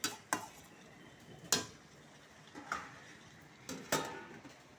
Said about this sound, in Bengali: এবার আমি ঢাকা দিয়ে দেবো